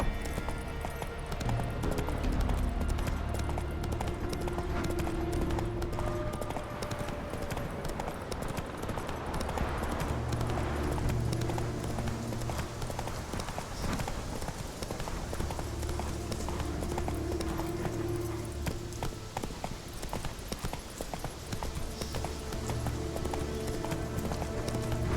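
Horse galloping in The Witcher, a rapid rhythmic clip-clop of hooves that continues steadily under a game music bed, with a faint voice at times.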